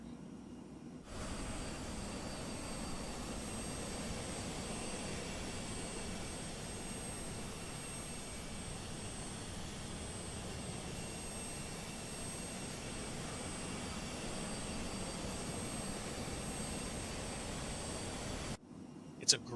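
Steady, broad roar of a Phenom 100 light business jet's engines in cruise flight in Microsoft Flight Simulator 2020, filling the clip evenly with faint high whines above it, cutting off abruptly near the end.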